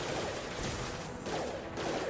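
Cannon weapon fire in the video game Mass Effect 2, heavy booming blasts arriving in a couple of rapid bursts with brief gaps, loud and close amid dense battle noise.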